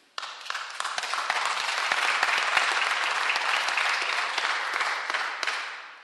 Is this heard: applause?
yes